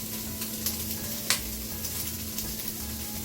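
Sausage searing in a pan for gumbo sizzles steadily up close, with scattered pops and one sharp crackle standing out above the constant fry.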